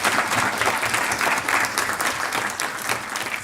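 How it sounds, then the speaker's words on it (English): An audience at a memorial lecture applauds steadily, a close, dense wash of many hands clapping that holds evenly throughout. "Let's give another round of applause."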